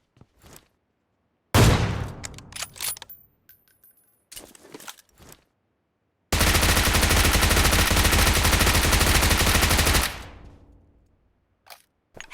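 Gunfire in the battle royale game BGMI (PUBG): a sharp burst, scattered shots, then a long sustained automatic volley that cuts off and tails away, loud and close.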